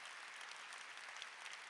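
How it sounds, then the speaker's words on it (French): Steady, dense applause from a concert audience in a Paris concert hall, cheering military bands including a firefighters' music band; an even, continuous clapping wash at moderate distance with no other sound. "Je pense que vous pouvez encore les applaudir."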